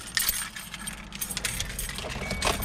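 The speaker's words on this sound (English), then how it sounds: "Keys." A bunch of car keys for a Kia jangles close to the microphone, a burst of bright metallic clinking and rattling over a faint low engine hum.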